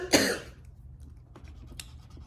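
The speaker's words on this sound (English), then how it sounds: "I still have this little cough" A single short, sharp cough, close and fairly loud, followed by quiet room tone and a couple of faint small clicks.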